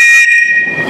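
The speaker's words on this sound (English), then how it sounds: "Having a whistle," A single loud, shrill safety whistle blast for kayaking sounds up close and cuts off sharply after a fraction of a second.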